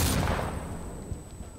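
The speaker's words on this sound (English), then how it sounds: "I don't know where the shots are coming from." A single loud gunshot in the shooter game Insurgency Sandstorm, a sharp close blast at the very start that decays into a fading echoing tail, with no other shots after it.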